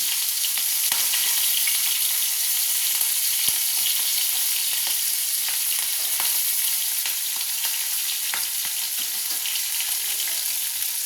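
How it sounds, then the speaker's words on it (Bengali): Prawns fry in hot oil in a pan, giving a steady close sizzle with scattered pops and light stirring clicks throughout, no one talking. "চিংড়া মাছগুলোকে আমি ভেজে নিচ্ছি।"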